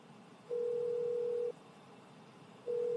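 Video call dialing tone: steady electronic ringback tones, one lasting about a second, then a pause and a second tone beginning, over a faint background hiss.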